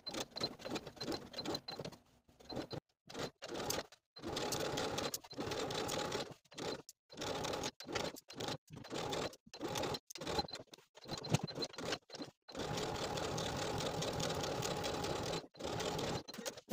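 A sewing machine edge stitches all the way around a dress neckband, running in short rapid bursts separated by brief pauses, close and steady with no speech.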